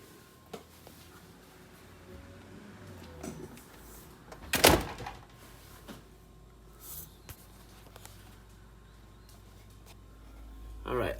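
A Kenmore Elite refrigerator door closes with one sharp thump midway through, set in faint room noise with some quiet handling sounds around it.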